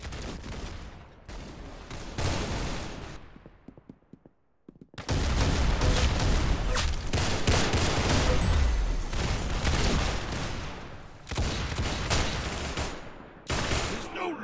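Dense, loud volleys of gunfire from the shooter video game Arsenal, rattling in rapid bursts with a brief quieter lull midway before the shooting resumes at full force.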